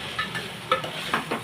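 Lemon semiya is stirred in a pan: a soft continuous scraping with faint sizzling and a few sharper clinks of the spoon against the metal, close by, with no talking.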